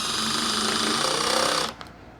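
A power driver sinks a screw into the rail of a CNC enclosure, a loud steady whirring buzz that cuts off abruptly near the end and leaves a couple of faint clicks.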